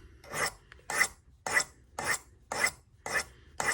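A knife edge rasped on a file or stone in seven evenly spaced strokes, each a bright scraping rub with short quiet gaps between, close and alone.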